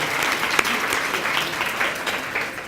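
Audience at a neurosurgery graduation ceremony claps in a steady, dense round of applause that holds for nearly three seconds, with no voices standing out.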